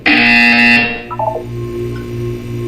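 A loud harsh buzzer from the Portal 2 test chambers blares for nearly a second, then cuts off into fainter electronic beeps and a low ambient hum.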